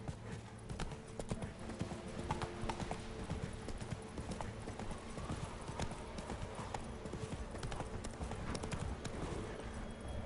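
The horse Roach gallops in The Witcher 3, a quick, continuous clip-clop of hooves with a faint whinny mixed in, all under the game's ambient sound.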